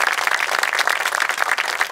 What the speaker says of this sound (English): So can we get another round of applause for all of them?